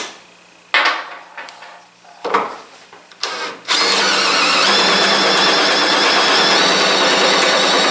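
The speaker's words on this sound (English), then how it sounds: "I got to countersink that some more." Drill countersinking a screw hole in an extension table, a few short whirring bursts and rattles at first, then a steady loud high-pitched grinding whine that continues to the end.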